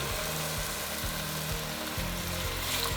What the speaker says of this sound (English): Give that nice sizzle.